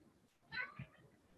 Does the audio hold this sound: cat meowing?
yes